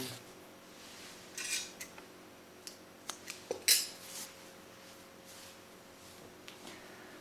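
Yarn being cut with scissors during a crocheted hat project, heard as a few soft close snips and light metallic clicks against quiet room tone, with no talking.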